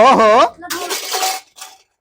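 Dishes and pots clatter and clink loudly at close range while being washed, a short jumble of metallic knocks and scrapes that follows a voice and then breaks off.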